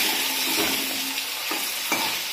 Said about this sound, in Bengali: এই দেখো ডিম ভাজা হচ্ছে কিন্তু